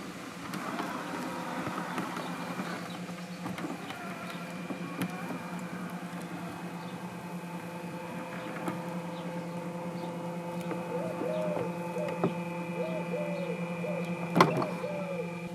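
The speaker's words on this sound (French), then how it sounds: "le bruit qu'on entend, c'est un ventilateur" Steady low hum of a cooling fan running on a Hookii Neomow X robot lawn mower with 3D LiDAR, a continuous near drone with faint mechanical tones and one brief click near the end, no voices.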